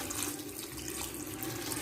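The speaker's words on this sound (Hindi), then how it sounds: "फिर इसमें हम तकरीबन 2 से 3 गिलास पानी के डालकर" Two to three glasses of water are poured into a pot of beef karahi spices, a steady close splashing and gurgling stream that runs continuously without pause and with no talking.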